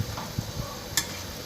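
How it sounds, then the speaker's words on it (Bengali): Egg curry is stirred in a sizzling pan, with a few brief scrapes and clinks over a soft steady frying hiss, heard up close. "এবার ভালো করে নাড়িয়ে নেব"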